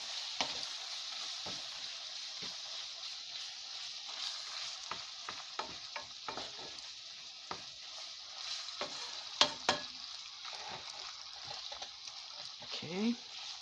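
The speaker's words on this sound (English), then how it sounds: "I'm going to mix that up a little bit." Sloppy joe sauce mix being stirred in a hot pan, faint scraping strokes repeating over a constant background sizzle, close but quiet, without speech.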